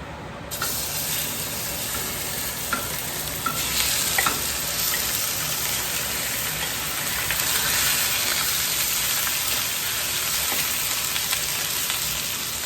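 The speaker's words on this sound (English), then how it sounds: "I'm going to go ahead and put this in the pan to fry a little bit." Steady, loud sizzling of food frying in a pan, continuous crackle with a few louder pops, no voices.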